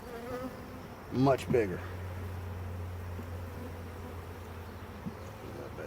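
Honeybees buzz steadily around a hive box during beekeeping, a dense, constant hum close by, with a brief spoken phrase partway through.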